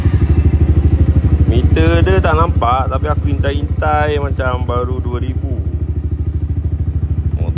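A Yamaha Y16 motorcycle with a Rapido swingarm, nearly new at 2,000 km, runs steadily close by, its engine putting out a dense low pulsing drone throughout while someone talks over it.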